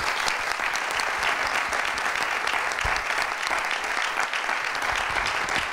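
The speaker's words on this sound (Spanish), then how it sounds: "Gracias y un merecido aplauso." Sustained applause from a conference audience at an event on renewable energy competitiveness and self-consumption, steady, dense clapping filling the room evenly throughout without voices.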